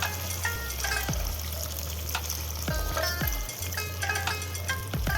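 Water is poured into chicken curry that has been frying with spices in a village-style pan, so a steady sizzle and bubbling fill the whole stretch, broken by a few faint clinks.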